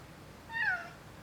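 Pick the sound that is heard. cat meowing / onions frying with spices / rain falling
cat meowing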